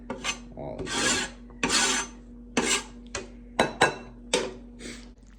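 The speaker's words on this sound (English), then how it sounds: "Just a little knife, just scrape it all into there." A small knife scraping cheese into a pot of spaghetti: about eight separate rasping scrape strokes in an uneven rhythm, close and fairly loud over a low steady hum, with no one talking.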